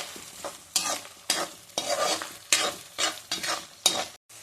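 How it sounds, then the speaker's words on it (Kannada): Onions are stirred and fried in a pan until golden brown, with repeated scraping stir strokes about every half second over a continuous crackling sizzle, close and fairly loud. "ಈರುಳ್ಳಿ ಸ್ವಲ್ಪ ಗೋಲ್ಡನ್ ಬ್ರೌನ್ ಕಲರ್ನಲ್ಲಿ ಹಾಕಬೇಕು."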